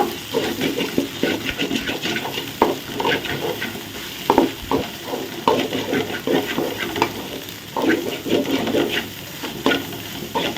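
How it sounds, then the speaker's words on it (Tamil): Steady stirring and scraping of masala in a sizzling frying pan for idiyappam kothu, with rhythmic clinks of a utensil against the pan over continuous frying noise. "நல்லா மசாலா மிக்ஸ் பண்ணுங்க"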